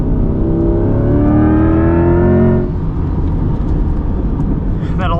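A 2024 Chevrolet Corvette E-Ray driving on a track, its electric motor letting out a loud rising whine like a supercharger over a constant heavy engine and road roar, heard close from inside the car.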